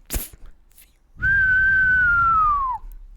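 A human voice imitates a whistle during a tabletop role-playing game, a single sustained whistled tone that glides slowly downward and fades out after about a second and a half, loud and close, preceded by a brief breathy burst.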